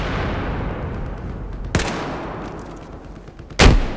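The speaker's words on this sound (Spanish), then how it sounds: "Están disparando a la Nelson ahí ya agitado" Gunfire in Battlefield 4: two sharp, loud shots about two seconds apart, the second louder and closer, over a steady background rumble of battle.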